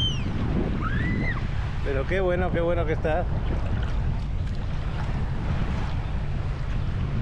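Rough sea waves breaking on a beach, making a steady, loud roar mixed with wind noise on the microphone while someone speaks briefly over it.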